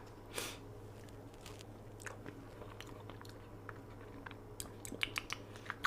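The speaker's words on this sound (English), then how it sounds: "Let me give it a little taste real quick." Someone tasting a sweetened food or drink, with faint close chewing and small crunchy bites scattered over a quiet background hum, no talking.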